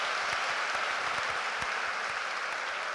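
Steady applause from a crowd at a church lecture gathering, a dense even patter of many hands clapping at close range that holds for the whole stretch without pause.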